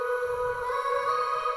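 Vocal sample from a song, sped up to double speed, holds a steady high, thin sustained tone with faint fluttering underneath, heard alone and fairly quiet for under two seconds.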